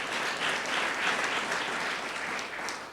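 A round of applause from an audience at a university campaign announcement event, a continuous, steady burst of many hands clapping throughout.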